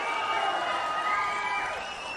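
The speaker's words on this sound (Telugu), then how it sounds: "గట్టిగా చప్పట్లు కొట్టి చెప్పండి, చేస్తామని." A political rally crowd cheers and claps at a steady, dense level, a broad wash of many voices and hands that fades slightly toward the end, with no clear single voice on top.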